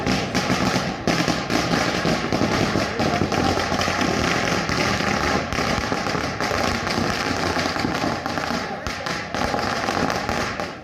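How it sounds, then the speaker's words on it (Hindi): Fireworks and firecrackers go off outside a jail gate in Ratlam, Madhya Pradesh, to welcome people released from jail. Rapid, continuous crackling and popping bursts run without a break, with voices mixed in. "मध्य प्रदेश के रतलाम में जेल के बाहर आतिशबाजी शायद पहली बार हुई होगी"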